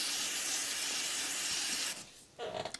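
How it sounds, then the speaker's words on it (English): A quick aerosol spray hisses steadily for about two seconds while cleaning a part of a Briggs and Stratton lawn mower engine, then stops, followed by a brief faint rustle. "Another quick little spray off"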